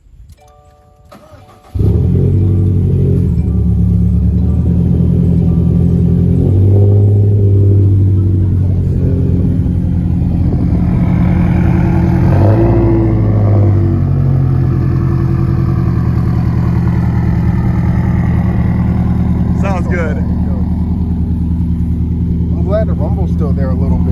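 A 2017 Subaru WRX STI built to around 400 wheel horsepower cranks and fires up after a short quiet moment, then settles into a loud, steady, rumbling idle that runs close and continuous, with people talking over it.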